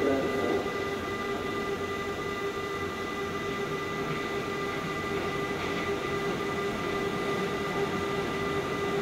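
A Keihan 2600 series express train rumbles and hums steadily as it pulls into a station, with a faint high whine from the wheels and a constant low roar.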